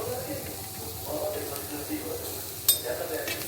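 Two chopped onions are tipped into a hot pan and stirred, giving a soft sizzle and hiss with light clinks of a utensil against the pan, close by under quiet talking.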